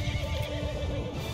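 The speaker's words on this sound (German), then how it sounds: "Ich brauche ein Pferdchen. Ich habe gerade eins gehört hier irgendwo." A horse neighs in a drawn-out, wavering whinny amid a medieval battlefield in the video game Mount & Blade II: Bannerlord, layered over dense background rumble and clatter.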